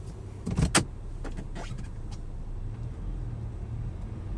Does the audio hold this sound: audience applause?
no